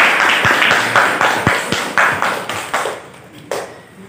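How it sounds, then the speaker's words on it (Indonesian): A small group claps in a classroom, distinct rhythmic claps close by that slow and thin out, ending with a couple of scattered final claps. "Tepuk tangan dulu."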